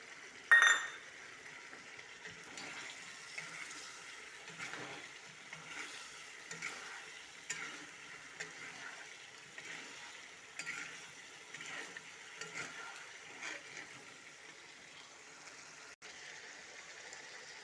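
Meat and potatoes fry in a pan, a soft steady sizzle with scattered clinks and stirring scrapes across the whole stretch, one sharp clink near the start.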